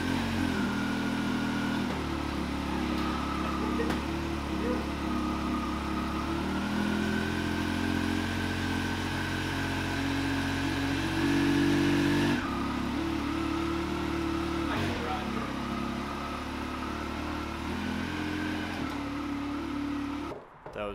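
Engine of a Yamaha YXZ1000R side-by-side idling and revving lightly as it backs out of a garage, a steady close mechanical drone with small shifts in pitch throughout.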